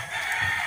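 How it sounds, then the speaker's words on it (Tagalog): Chickens on a farm, a rooster crowing in a short, sustained call. "Yan yung mga manok."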